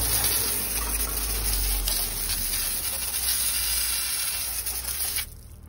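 A garden hose sprays water onto a ceramic-coated car wheel rim by the rear tire, a loud, steady, close hiss that cuts off abruptly near the end.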